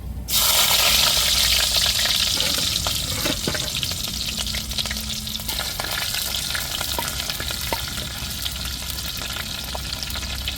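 Cardamom, cloves, star anise, cinnamon and shallots fry in hot oil as the tempering for an egg curry, giving a loud, continuous close-up sizzle with faint crackles throughout.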